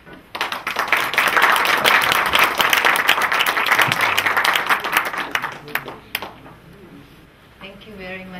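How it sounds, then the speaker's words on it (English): Warm audience applause welcoming a lecturer, many hands clapping loudly and steadily for about six seconds before tapering off into quiet room sound with a voice starting at the end. "I suggest that let's welcome her with warm applause."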